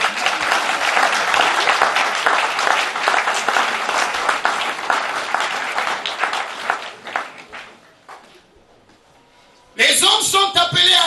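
A church congregation claps and cheers loudly for a long, dense stretch, the applause thinning and fading out before loud talk resumes near the end.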